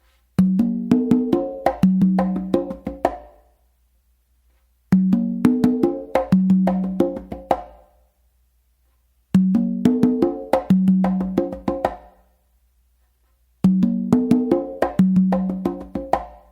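Four congas play a repeating melodic tumbao pattern in four bursts of about three seconds each, separated by short silences, with open and muted tones mixed.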